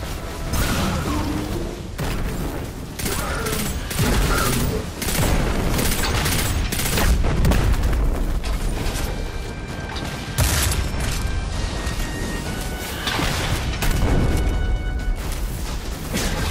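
Explosions and gunfire from the Destiny 2 video game on PC, with booming blasts and rattling bursts over a dense, busy mix of mechanical battle noise that runs continuously.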